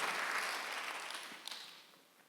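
Church congregation clapping during a Sunday worship service, a dense wash of many hands that is loudest at the start and gradually fades away, with a few stray claps near the end.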